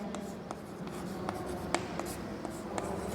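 Chalk or marker strokes on a board during a Hindi maths lesson on finding a circle's circumference, a few short taps and scratches spread over a steady room hum, with no talk.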